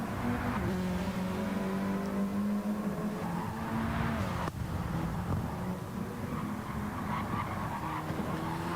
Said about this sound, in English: Chevy just goes screaming on by.